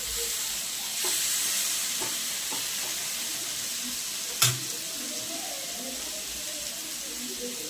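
Fish shallow-frying in a little oil in a home kitchen, a steady close sizzling hiss that runs throughout, with a few faint clinks and one sharp knock partway through.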